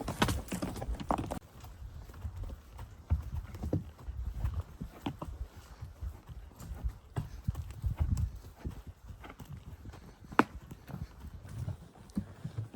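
Horses' hooves clip-clop steadily up an uphill trail, an irregular rhythm of muffled thuds close by, with faint rustling between steps.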